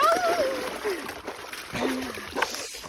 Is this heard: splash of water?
yes